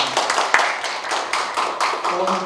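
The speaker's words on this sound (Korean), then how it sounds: "박수 좀 부탁드립니다" Audience clapping at a Korean policy forum on a lifelong education law for people with disabilities, a modest patter of hands in a hall with a speaker's voice over it.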